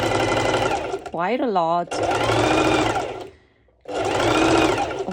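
A sewing machine runs in bursts while stitching a ruffled lettuce edge on stretched bikini fabric, its steady motor whir broken by a pause, with someone talking over it.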